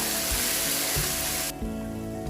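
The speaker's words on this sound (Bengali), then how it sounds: "এই পর্যায়ে হচ্ছে আমি একটু পানি দিয়ে নিব।" Fried onions in a pan sizzling loudly as water is added for a tehari rice dish, a dense continuous hiss that drops off sharply partway through.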